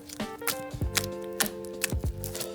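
Homemade slime made from clear glue gives off a series of sharp, fairly quiet clicks and pops as it is squeezed and worked by hand, spaced irregularly, with no talking.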